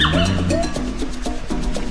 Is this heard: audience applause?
no